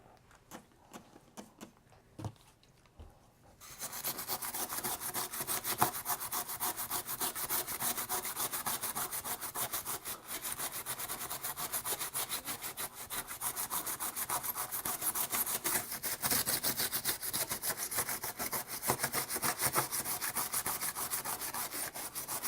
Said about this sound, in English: I'm going to grab a stronger Scotch-Brite pad